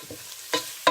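Carrots and other vegetables for spring rolls are stirred in a hot pan, giving brief sizzling scrapes, two short bursts close together in a quiet moment.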